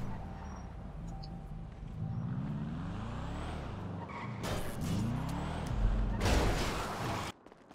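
A Pagani sports car in GTA 5 Online drives near an airport, its engine droning and revving continuously with rising and falling pitch sweeps, joined by two bursts of loud broadband tire noise or skidding late on.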